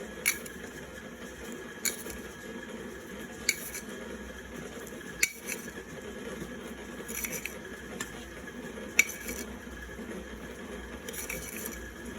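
Sugar spooned into a mixing bowl for chocolate chip cookie dough, heard as a few light, sharp clinks of a spoon against the bowl spaced across a quiet kitchen background with a steady hum.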